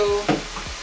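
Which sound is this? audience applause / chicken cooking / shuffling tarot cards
chicken cooking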